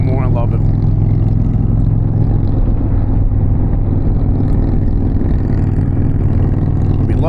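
A 2025 Indian Challenger motorcycle with the Power Plus 108 engine on the move, giving a loud, continuous low engine rumble mixed with wind buffeting, steady throughout and recorded close on the bike.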